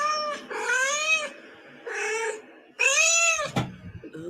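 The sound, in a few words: recording of cats meowing played on a phone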